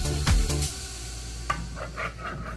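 Garlic dropped into olive oil in a pan sizzles softly under brief scraping strokes of a spoon, with a few light stirring taps near the close.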